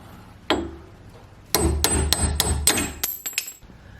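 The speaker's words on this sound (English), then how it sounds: "The old one came out really easily with a few taps" Hammer blows knock an old wheel stud out of a car hub: one sharp metallic strike, then a quick run of about eight taps, close and loud.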